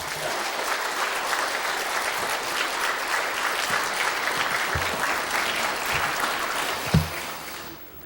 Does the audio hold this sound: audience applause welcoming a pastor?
yes